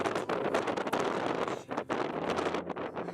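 Strong wind with rain on the coast at Omaha Beach or Pointe du Hoc, Normandy, France, buffets the microphone in a continuous, roaring rush that surges and dips throughout, with no other clear sounds.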